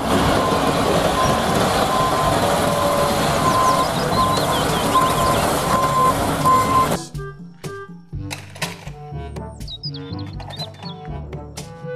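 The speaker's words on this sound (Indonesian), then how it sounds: "Mobil truk molen. Mixer trucks." A toy cement mixer truck rumbles with a continuous engine drone and faint beeping for around seven seconds, then switches to bursts of electronic tones and chirps.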